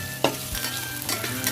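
Onion and green chilies frying in oil for a Kerala-style chicken curry, a steady close sizzle with stirring scrapes and a few sharper clatters across a short stretch, no talking.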